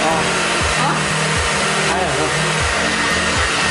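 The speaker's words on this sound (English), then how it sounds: "It's a Conair hair dryer." A Conair hair dryer fitted with a diffuser attachment blows steadily at close range, a loud continuous whooshing roar with low fluttering pulses as hair is scrunched under it, and a voice is faintly present beneath the noise.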